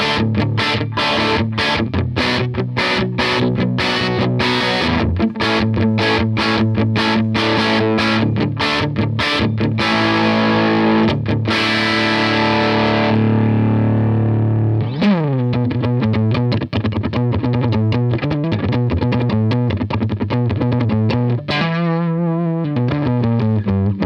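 A Tone King guitar amp cranked to full volume, playing loud, heavily distorted chords and riffs with thick sustain, then sharper single-note lines and ringing chords toward the end, with no voices.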